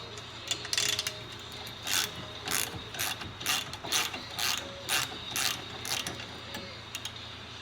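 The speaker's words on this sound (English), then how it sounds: "That takes a 1/4 inch hex key and then a 9/16 wrench on the back side." A 9/16 wrench works the steering wheel nut on a Polaris RZR 800, giving a series of close, rhythmic ratcheting clicks in regular bursts, with no talking.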